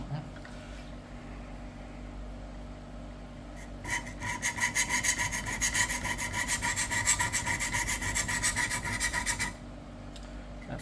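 A kitchen knife being sharpened on a stone, with a steady back-and-forth scraping rasp of the blade, close and fairly loud for several seconds after a quiet start, then stopping.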